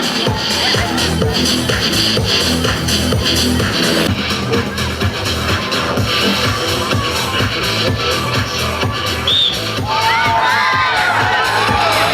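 Crowd at a strongman competition in Bor clapping and cheering loudly and continuously, a dense roar of clapping mixed with shouts and children's calls, with whoops rising near the end.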